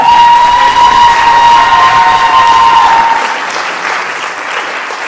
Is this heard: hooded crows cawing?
no